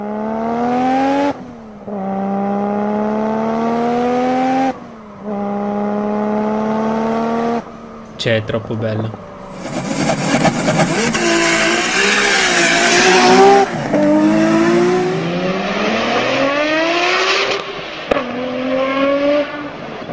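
A Japanese car engine revs hard in repeated rising bursts, each climbing in pitch and then cutting off, followed by a long, loud, ragged high-rev roar with tire noise. The engine is close and loud, and someone speaks briefly over it.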